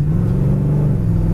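A 1964 Chevy Chevelle with a three-speed Turbo 350 automatic accelerates in first gear, a close, steady low engine rumble with no talk.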